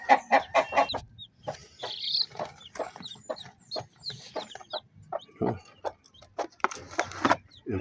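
A hen clucks close by among newly hatched chicks, giving irregular short clucks and soft chirps in quick bursts with brief quiet gaps, and a voice briefly speaks in between.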